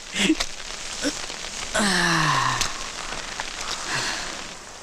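Steady rain hisses in heavy monsoon wind throughout, with a breathy, sighing vocal sound rising briefly in the middle.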